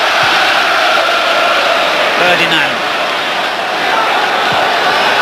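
A football stadium crowd at a Premier League match, Newcastle against Liverpool in 1996/97, howls and roars for a penalty in a loud, continuous swell while a commentator speaks over it.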